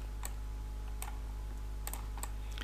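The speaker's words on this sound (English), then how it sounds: "For example, I click on here." Computer mouse clicks while working in PLAXIS 3D software, several sharp, light clicks spaced irregularly over a constant low hum, one close pair near the middle, with no talking.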